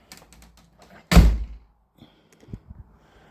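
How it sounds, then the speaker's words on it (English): A door on an old tenant house being secured swings shut with a single loud, close wooden thud and short rattle, followed by quiet handling sounds and faint knocks. "So now we're going to close the door up."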